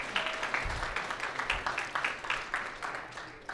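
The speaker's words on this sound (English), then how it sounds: "If we could just give them a nice round of applause, even if they're not here" Modest round of applause from a small audience at a closing ceremony, a soft continuous patter of clapping hands, fairly faint and uneven, lasting a few seconds.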